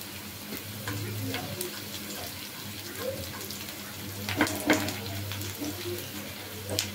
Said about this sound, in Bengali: পেঁয়াজটা লাল লাল হয়ে এলে আমি কিছুটা আস্তা জিরা দিয়ে দিব।